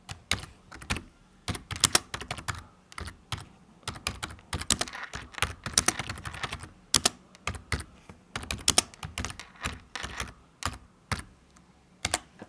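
Fingers type on a computer keyboard in close, crisp clicking bursts with irregular rhythm and short pauses, while code is written for Playwright tests; no speech is heard.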